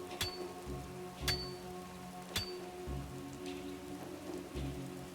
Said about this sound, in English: Probably can't light fire in the rain.